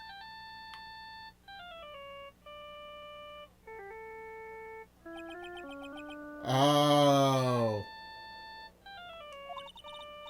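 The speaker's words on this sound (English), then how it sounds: "All of a sudden, the phone began to ring." A cell phone ringtone from the video game Phoenix Wright: Ace Attorney plays as a clear electronic melody of stepped beeping tones, broken by a burst of harsher, noisier chiming partway through, with a brief spoken exclamation.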